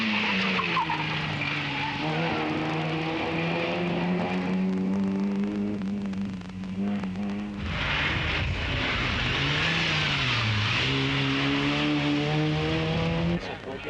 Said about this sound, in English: towards the finish line for an eventual 5th place was Americo Campos and the Golf GTI